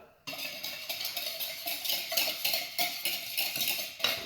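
Bread dough ingredients with two teaspoons of salt mixed in a bowl, giving close, steady scraping and clinking utensil strokes in a quick rhythm, with no voices.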